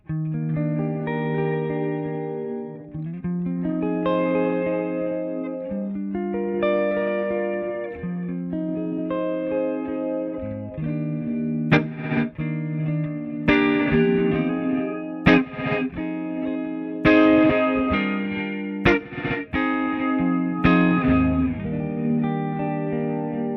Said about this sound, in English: So almost like a reverse, gated reverse reverb.